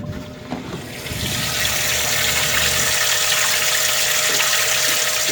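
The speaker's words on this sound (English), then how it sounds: "It's not pumping water, so I can hear the pump moving" A boat's water pump runs dry without moving any water, a steady, close whirring and hissing motor drone that starts softer and holds level after the first second or so.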